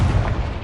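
A Confringo spell blast in the Hogwarts Legacy video game, a single short, loud, booming explosion burst.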